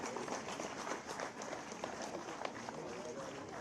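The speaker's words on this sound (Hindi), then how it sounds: "तालियां बजती रहे साहब" An audience applauds at a government appointment-letter ceremony, a steady clatter of many hands, fairly close and continuous, with talk in the background.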